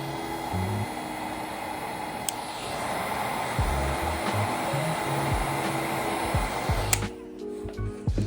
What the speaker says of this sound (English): That way the heat gun can help shrink the vinyl around.